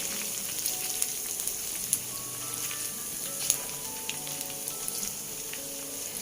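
Spicy fried chicken, ayam goreng berempah, sizzles in hot oil with a steady close hiss and scattered small pops and crackles, no talking.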